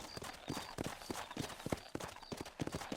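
Horse hooves clip-clop at a steady walking rhythm on a ranch in the Red Dead Redemption video game, close and fairly loud, repeating over a soft background hum.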